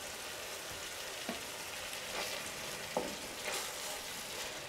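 Chicken pieces fry in a pan with a steady, dense sizzle, close and even throughout, broken by a few soft stirring knocks.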